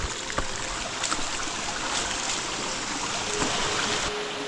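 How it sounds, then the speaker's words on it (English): At Lulumahu Falls on Oahu, a cascade of water rushes in a steady broadband roar, loud and close, with a few faint knocks on top and no speech. "There's this cascade."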